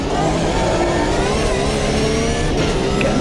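Porsche race car in Automobilista 2, a loud, continuous engine roar holding at high revs as the car passes close, with a slight rise in pitch.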